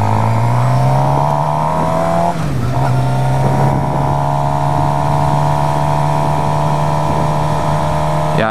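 A 2013 Suzuki GSX-R 750 sportbike is ridden at a steady cruise, its engine droning loudly and continuously, with one brief dip in pitch before it settles back to an even hum.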